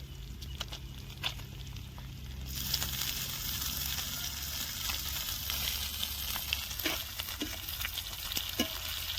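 Pieces of fish go a little at a time into onion and grated coconut frying in a pan, a steady sizzle with scattered clicks and stirring scrapes that grows fuller after a few seconds.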